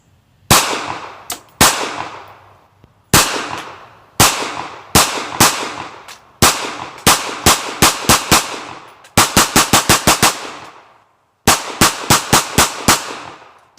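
Sharp, loud gunshots from a Kel-Tec PMR-30 handgun ring out in uneven strings, some single shots and some rapid clusters of five or six, each with a brief ringing tail, with no talking.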